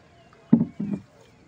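Two quick, close oar strokes on a river, each a short watery swish and splash from a rowboat, with quiet surroundings before and after.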